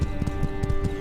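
Horse hooves clopping in the game My Time at Sandrock, a steady rhythmic trot of soft thuds over a constant background hum, moderately loud with no talk.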